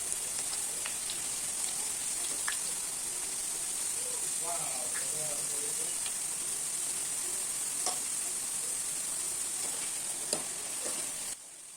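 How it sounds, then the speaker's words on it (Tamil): Potato slices fry in hot oil for homemade chips, giving a steady, dense sizzle with scattered pops and crackles throughout. The bubbling stays even and close, with no talk over it. "இந்த பொட்டேட்டோஸ்லாம் நல்லா வெந்து பபிள்ஸ் எல்லாம் அடங்கிடும் சுத்தமாக."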